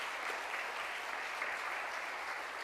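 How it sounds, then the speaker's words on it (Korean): A church congregation claps together in a sustained, even round of applause, dense and steady from start to finish, with no voices rising above it. "다 같이 영광의 박수 하나님께 드리겠습니다"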